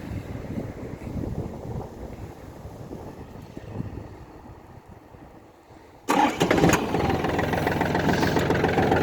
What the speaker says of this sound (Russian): Двигатель слышно, как работает, очень мягко и ровно.